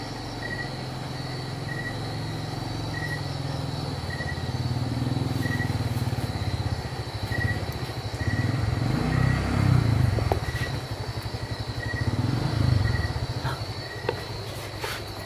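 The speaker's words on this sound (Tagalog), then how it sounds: "bumalik na naman yung nakamotor, dalawang tao" A motorcycle carrying two riders approaches, its engine drone swelling gradually and then holding steady over a constant chorus of insects, with some faint clattering along the way.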